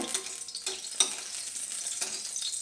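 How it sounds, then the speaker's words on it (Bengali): Bitter gourd frying in hot oil gives a steady, crackling sizzle with light stirring clatters and a few sharper pops, close and moderately quiet, with no voices. "উচ্ছেটাও আমি এখানে ভেজে নেব"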